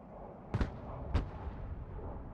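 Two sharp, booming artillery shots in the Broken Arrow video game, about half a second apart, standing out over a steady low background rumble of battle ambience; no talking.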